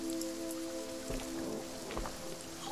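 Rain falling in the horror video game Visage, a steady soft patter on surfaces with a few louder drops and low rumbles, set under a constant tonal hum.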